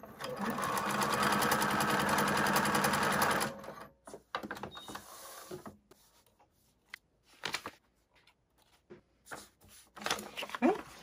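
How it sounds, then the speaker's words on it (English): A sewing machine stitches a foundation paper pieced pineapple quilt block, running loud and steady for a few seconds up close, then stopping, followed by scattered handling, paper rustling and fabric sounds. "then I'm going to flip it over, sew along that line"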